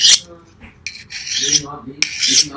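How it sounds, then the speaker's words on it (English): A CRKT Tueto linerlock knife blade is honed to remove burrs, giving close, rasping strokes in a few separate bursts. "What it does do is hone the knife. So let's get rid of any burrs that might be on there."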